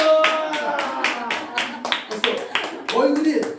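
A church congregation at a Sunday worship service claps in quick rhythmic bursts, loud and close. Voices shout and chatter over the clapping.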